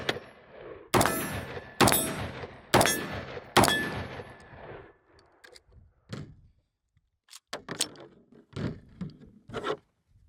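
An AR rifle fires five shots at an outdoor range from a standing offhand position, four sharp cracks in quick succession, then lighter clanks and shuffling of gear follow.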